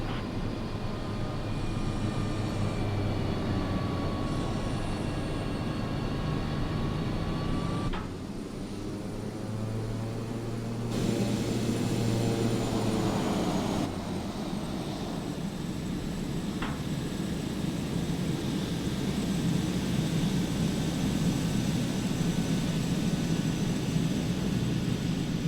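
A simulated T-6A Texan II turboprop taxis in a flight simulator game, its engine a steady, loud drone with a shifting whine and tone that changes partway through.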